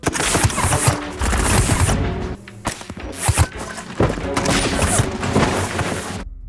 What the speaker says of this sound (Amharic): ሁሉም ስናይፐሮች በተመሳሳይ ሰከንድ ተኩሰው ኢላማቸውን ጸጥ አደረጉ።